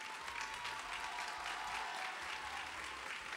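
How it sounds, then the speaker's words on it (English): Audience applause at the Mr. Continental 2011 pageant, a steady, dense wash of clapping from a hall crowd, heard somewhat distant and continuous throughout. "Let's give them all a nice round of applause."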